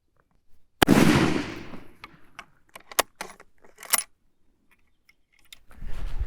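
A single loud military surplus rifle shot cracks nearby, with a long rolling echo trailing off. Scattered clicks and small handling knocks follow, and a low rumble rises at the end.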